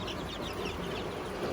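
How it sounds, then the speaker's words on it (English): A group of young chicks about three weeks old peep in a brooder with a heater and heat lamps, their many soft overlapping cheeps forming a faint continuous chatter over a low hum. "Those chicks I've had for about 3 weeks or more now."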